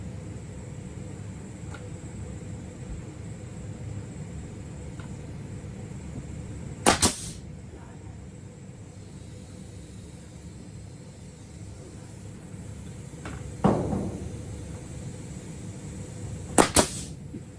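Pneumatic nail gun firing during DIY lower-level construction, three sharp loud bangs spaced several seconds apart over a steady low hum of compressor or room noise.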